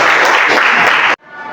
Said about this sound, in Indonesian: Masya Allah, beri tepuk tangan dulu dong.